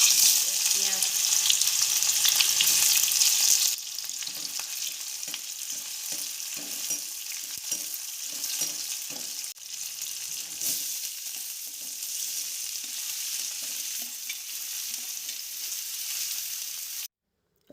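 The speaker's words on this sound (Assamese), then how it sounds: "এয়া কেৰাহী গৰম হৈ গ'ল, মই তেল দিছোঁ" Oil heats in a hot kadai-style wok and gives off a steady, close sizzling hiss. The hiss is brightest for the first few seconds, then settles into a continuous crackle before cutting off at the end. No one talks.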